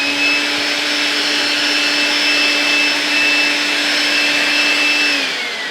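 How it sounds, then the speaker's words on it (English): A Milwaukee M12 cordless vacuum sucks up sawdust left by a compound sliding miter saw, giving a steady high-pitched motor whine with a whooshing airflow that winds down at the end. "And take my vacuum."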